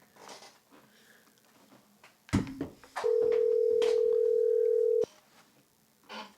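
A single long ringback tone sounds steadily for about two seconds on a phone call to Scott, clear and loud over a quiet background, preceded by a brief rustle and faint voices.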